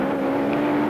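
Indianapolis race cars at the 1967 Rex Mays 300, a 300-mile race: a loud, continuous engine drone with a steady buzzing tone, close and unbroken for the whole moment.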